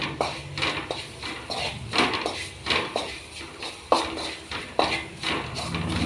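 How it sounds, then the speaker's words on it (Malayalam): Spice powder is stirred in a cooking pan for a clam stir-fry, a spoon scraping and tapping against the pan in irregular clinks and scrapes at moderate, close range. "പിന്നെ നമുക്കിതെല്ലാം ഇളക്കി യോജിപ്പിക്കാം"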